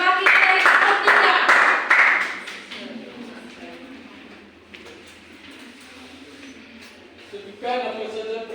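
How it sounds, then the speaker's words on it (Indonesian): A classroom of students claps for a presenting group: a burst of close, loud clapping over the first couple of seconds fades out, followed by quieter room sounds and voices talking. "tepuk tangan untuk kelompok 2"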